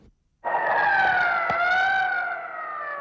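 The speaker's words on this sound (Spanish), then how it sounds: "De vez en cuando una ambulancia rompe el silencio" An ambulance siren wails steadily outside the Palacio de las Cortes in Madrid, starting abruptly after a brief quiet and holding a loud, sustained, slowly gliding tone for about three seconds.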